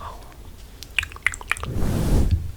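Gum being chewed close up, with a few wet smacks and clicks followed by a soft squishing rustle, heard alone and fairly quiet.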